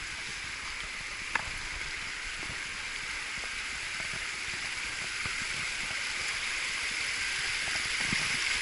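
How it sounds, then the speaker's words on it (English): A small waterfall on a rocky hiking trail, a steady rushing splash of water that grows slightly louder as it nears, with faint footsteps now and then. "we're approaching a little mini waterfall"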